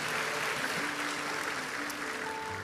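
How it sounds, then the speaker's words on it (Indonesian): A church congregation claps together in a continuous wash of applause, moderately loud, with sustained organ or keyboard notes underneath. "Berikan tepuk tangan kita untuk Tuhan kita."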